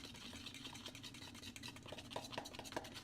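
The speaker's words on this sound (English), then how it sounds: "So yeah, mix that all up." A spoon stirs waffle batter made with egg whites and baking powder, giving quiet, irregular wet scraping and clicking against the bowl, close and without talk.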